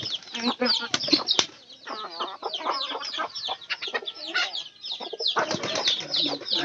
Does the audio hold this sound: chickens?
yes